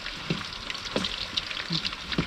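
Food sizzles and crackles steadily in hot oil over a wood fire, with occasional sharper pops and spits, close by and with no talking.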